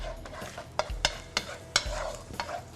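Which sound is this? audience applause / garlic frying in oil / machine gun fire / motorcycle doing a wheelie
garlic frying in oil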